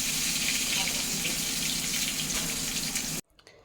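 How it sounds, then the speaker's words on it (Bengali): Slit pointed gourds (potol), four at a time, fry in a small wok with a steady, dense sizzle that cuts off abruptly near the end. "এবার পটলগুলো আস্তে আস্তে ভাজা হতে থাকে, এপিট ওপিট করে লাল লাল করে আমি ভেজে নেব।"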